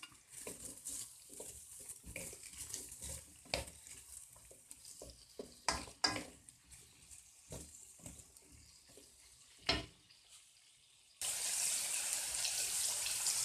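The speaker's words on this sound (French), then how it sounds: "On met la courge, on la fait un petit peu sauter." Wax gourd and onions sauté in a pan, with a spoon scraping and stirring in scattered knocks and scuffs over a quiet sizzle. Near the end a loud, steady frying hiss sets in.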